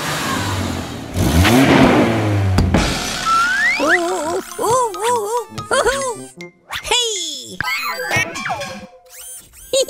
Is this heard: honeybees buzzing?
no